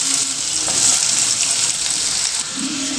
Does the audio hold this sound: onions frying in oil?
yes